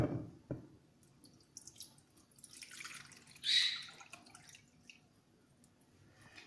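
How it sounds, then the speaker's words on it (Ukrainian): Water is poured into an iron bowl during a water-purification experiment, heard as faint drips and a brief splashing trickle, quiet and close with a short louder pour near the middle. "тому ми візьмемо залізну миску, е, перельємо воду"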